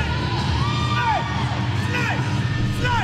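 A wrestling crowd at a Lucha Xtreme event cheers and whoops, a dense, loud roar of many voices with rising shouts and yells sweeping through it, steady across the whole stretch.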